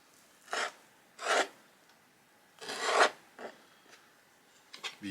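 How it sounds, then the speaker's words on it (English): A stone blade saws through meat in several separate rasping strokes, close and fairly quiet, with short pauses between the scrapes. "Use something like a stone blade, it's a little bit more of a sawing action."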